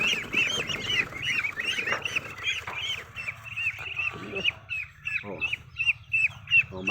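Mestizo Peking ducks around forty days old on a farm, a flock quacking and honking steadily up close, with someone talking over them.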